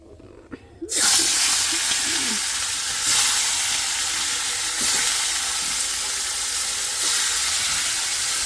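Fish fries in a pan in a home kitchen. After a brief quiet start, a loud continuous sizzle and crackle sets in and swells again in a few bursts, with no talking.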